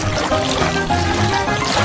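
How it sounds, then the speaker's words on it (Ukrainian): Blue water is poured into a decorated cake in a steady, close, continuous splashing trickle with no pauses, while soft tones and other sounds stay faint underneath. "Заповнюю його блакитною водою."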